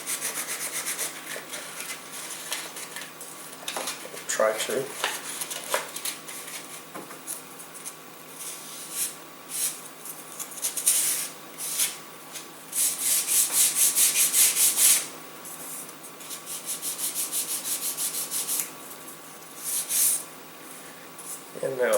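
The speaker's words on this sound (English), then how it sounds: "And we'll give it a really basic sanding here." Sandpaper rubs over the fuselage of a small balsa Mini Windlance boost glider model, short scratchy strokes in uneven bursts that build to a longer steady stretch near the end, close by, with someone speaking briefly between passes.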